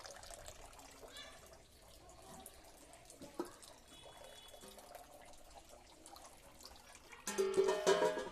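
A household tap gives only a slow, faint trickle of water, quiet and thin for most of the stretch, with a louder splash toward the end.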